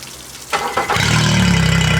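An outboard engine on a Polycraft 410 Challenger boat cranks briefly and catches, then settles into a steady, close, loud idle with a regular pulsing rhythm while flushing on a hose.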